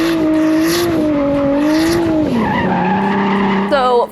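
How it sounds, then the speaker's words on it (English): A drift car slides with a loud, wavering tire squeal over engine noise, the pitch dropping and shifting as the skid continues, with someone talking over it. "When you're drifting, the rear tires are always spinning."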